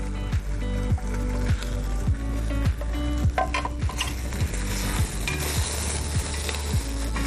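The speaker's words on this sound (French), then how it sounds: "Je fais revenir mes ingrédients avec mon poisson" Fish sautéing in a pan with fennel, carrots, potatoes, onion and leek, a steady close sizzle broken by repeated scraping and stirring knocks from a utensil at a regular pace, with no talking.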